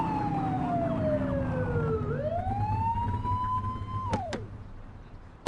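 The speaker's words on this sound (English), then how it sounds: "Get on their tail and flip the siren." A police car siren in the video game The Precinct sweeps down, then winds back up and holds a steady tone over engine noise, ending with a couple of sharp clicks.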